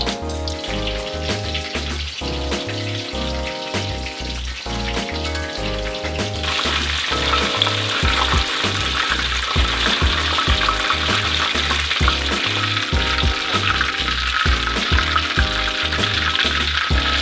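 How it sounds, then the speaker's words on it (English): Batter-coated Korean stuffed peppers deep frying in 350-degree oil, a steady loud sizzle and bubbling that grows denser partway through, alone without talk. "Deep fry the pepper over 350 degrees oil for 5 to 6 minutes."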